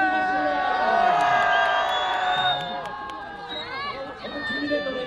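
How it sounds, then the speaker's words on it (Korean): Crowd cheering at a K-pop street busking performance in Myeongdong, Seoul, with high shrieks and whoops from many fans, loud and close, dipping midway before rising again. "축하드립니다. 다시 한번 큰 박수로"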